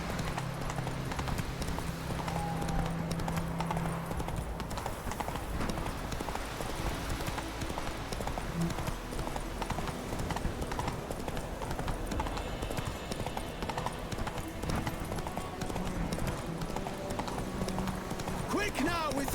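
Rhythmic clip-clop of Roach's hooves galloping steadily in The Witcher 3: Wild Hunt video game, carrying on under voices speaking and background music throughout.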